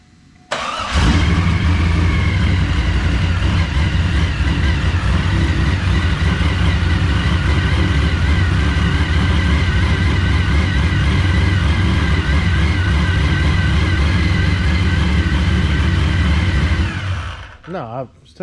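A Chevrolet Silverado short-bed pickup truck engine cranks and catches, then runs loud and close with a deep, steady roar and slight revving for about sixteen seconds before abruptly cutting off near the end.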